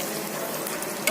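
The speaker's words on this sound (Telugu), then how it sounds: "చూడండి, ఆల్మోస్ట్ అన్ని పప్పులు నేతిలో బాగా వేయించేసుకున్నాం." Pulses and nuts sizzle in hot ghee in a pan, a steady close crackling hiss with a faint scrape of stirring near the end.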